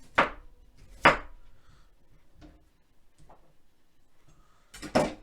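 A knife trims the discolored bits off a squash-like vegetable on a cutting board, with a few sharp, close chops spaced about a second apart and soft scraping and tapping between them.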